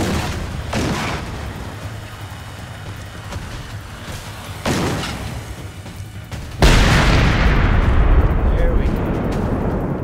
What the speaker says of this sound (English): I know it's a bit of overkill, but I enjoy the explosions.